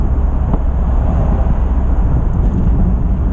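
Stripped-interior Mazda MX-5 on the move, its engine induction noise droning loudly and steadily with a faint exhaust leak from the cat, over road and wind rumble, no talking.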